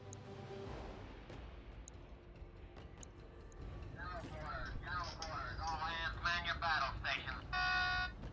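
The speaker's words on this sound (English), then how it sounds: "That's my phone." Mobile phone ringing nearby, a bright electronic chirping trill that rises out of a rumbling game soundscape and repeats in quick pulses, growing louder toward the end.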